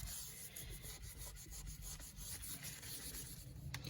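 A sink is scrubbed by hand with a mild abrasive cleanser during a leaking drain repair, giving a soft, continuous rhythmic rubbing close by with no talking.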